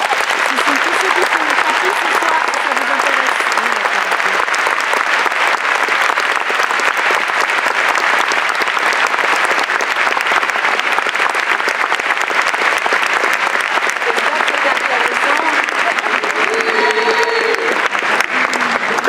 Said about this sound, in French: Vous pouvez applaudir Audrey Fleurot.